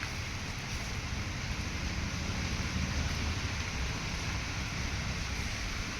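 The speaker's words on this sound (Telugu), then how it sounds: "వర్షం కూడా పెరిగిపోతుంది." Rain falls steadily outdoors in a vegetable garden, a dense continuous hiss with some wind noise, even and fairly loud without clear drops or voices.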